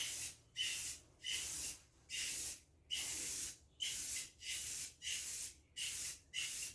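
Aerosol spray cans laying light coats onto a car headlight during a cheap quick restoration, about ten short hissing bursts in a steady rhythm separated by brief silences, close and fairly quiet.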